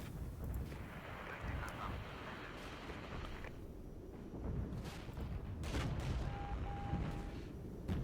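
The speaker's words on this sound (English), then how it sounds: "I'm just going to send an artillery or airstrike at it" An artillery or airstrike hitting a target in the war game Regiments, heard as a rumbling run of distant booms and crackling blasts over a constant low roar, with no talking.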